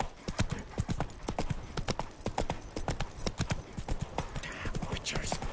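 Roach the horse's hooves in The Witcher 3, a quick, steady clip-clop of hoofbeats close by on hard ground, running throughout with faint game ambience.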